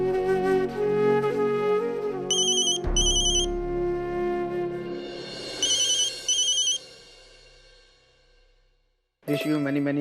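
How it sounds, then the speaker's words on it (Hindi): A telephone ringtone sounds in bursts as a call is placed, a repeating electronic ring over background music, then a pause before a voice answers. "लेकिन उससे पहले मैं वैशाली को फ़ोन करके बर्थडे विश करता हूँ।"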